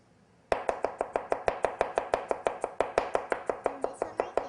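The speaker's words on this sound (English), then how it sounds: "Quick mince of the garlic." A knife quickly minces garlic on a cutting board, giving about two dozen sharp, evenly spaced chops in a fast, steady rhythm, close and crisp with no talk.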